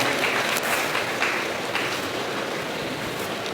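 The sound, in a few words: audience applause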